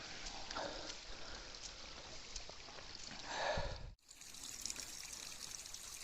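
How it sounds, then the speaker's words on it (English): Small waterfalls trickle and pour along a rainy hiking trail, a soft continuous watery wash heard nearby, swelling briefly before a sudden cut to a similar, slightly brighter stream of water. "Little waterfalls."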